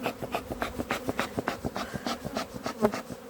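Honeybees buzz at a hive during an April colony inspection after prolonged rains, a faint, soft hum broken by quick, rhythmic rasping pulses, close by and without talk.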